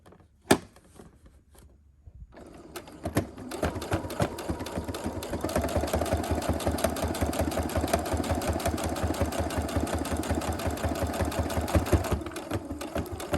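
Sewing machine stitching along the folded lining of a fabric face mask, a steady rapid mechanical whir with rhythmic needle clatter running continuously after a brief start, close and alone with no talk.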